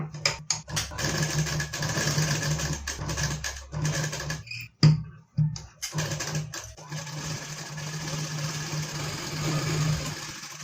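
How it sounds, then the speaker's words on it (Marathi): Sewing machine stitching a patch onto a sari blouse, running in steady bursts with a few short pauses, close and moderately loud, with no talking. "आपल्याला जसा आकार आहे तशा पद्धतीने इथे शिलाई करून घ्यायचं आहे"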